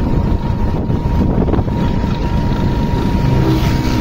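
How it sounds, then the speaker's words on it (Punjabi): A motorcycle engine drones loudly and steadily while riding, a constant low rumble mixed with strong wind buffeting on the microphone. "ਮੋਟਰਸਾਈਕਲ ਬੜਾ ਆਵਾਜ਼ ਦੇ ਰਿਹਾ"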